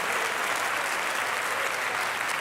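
A church congregation at a Sunday service claps together in a sustained, dense wash of hands, steady and loud throughout with no voices standing out.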